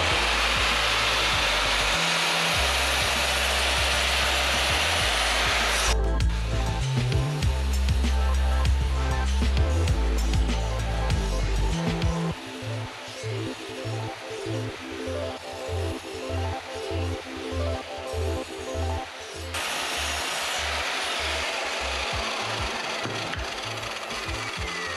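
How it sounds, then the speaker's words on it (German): Wood being sawn by hand, long rasping strokes repeating in a steady back-and-forth rhythm, with a louder whirring tool noise before and after. "zuerst sägen wir das Holz mal auf die richtige Länge zu"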